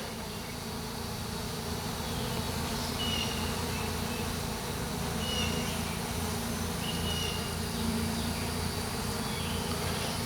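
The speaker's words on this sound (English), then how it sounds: "Looks like a bunch of other bees are coming in, and robber bees are coming in." Dense, steady buzzing of many honey bees, including robber bees, swarming close by at a hive during a transfer, a continuous droning hum with no talking.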